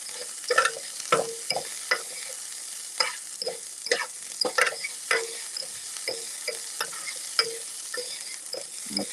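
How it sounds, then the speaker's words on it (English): Green peppers and onions frying in a pan for shrimp pasta while being stirred, a low sizzle broken by irregular spoon scrapes and clacks against the pan, close by with no talking. "my green peppers and onions are in. I'm gonna stir that real quick"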